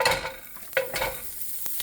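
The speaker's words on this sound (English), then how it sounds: "The sizzle of, well, this is pancetta." Pancetta fat crackles and sizzles in a frying pan with a few sharp scraping stirs, the cooking sound steady and close throughout.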